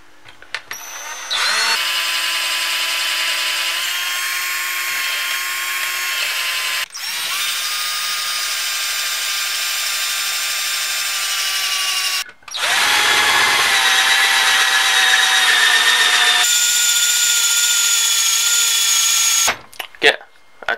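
A drill runs in three long, loud bursts with brief pauses between them, its high whine dipping as the bit bites into a hole in alloy being prepared for tapping.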